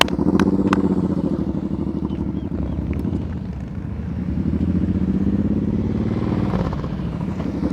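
Motorcycle engine idling and gently revving during slow speed riding practice through gates, a continuous putter that rises and falls with the throttle, heard from nearby with some wind noise on the microphone.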